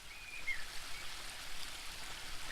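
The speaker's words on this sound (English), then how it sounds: "The waterfall and I have been neighbours for so long that I don't really hear it anymore" Waterfall ambience from The Book of Unwritten Tales 2 video game plays as a soft, steady rush of falling water, faint and continuous with no other sounds.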